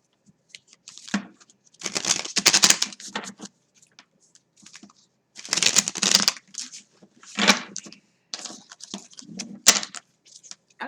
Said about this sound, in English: So I'm going to shuffle these cards up.